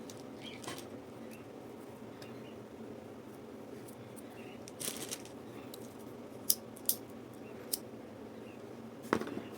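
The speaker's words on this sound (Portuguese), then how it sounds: "Aqui agora eu vou cortar meu fio" Scissors cut crochet yarn for a bag, making a few quiet, sharp snips toward the end against a faint room hush.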